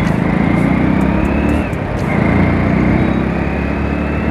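A Toyota vehicle drives past on a road, its steady engine roar loud and close throughout, swelling slightly as it goes by.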